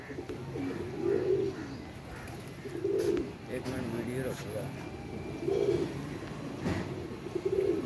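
Soft, repeated pigeon coos at a slow, irregular rhythm, close by, with faint background chatter and rustling between calls.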